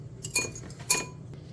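A whisk striking the side of a bowl of two eggs, two bright metallic clinks about half a second apart, close and fairly quiet over a low background hum.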